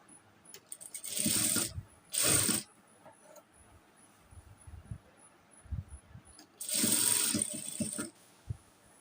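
A sewing machine stitches fabric while sewing a nightgown: short whirring runs of steady stitching, then a pause with faint handling clicks, then another longer run. No one talks.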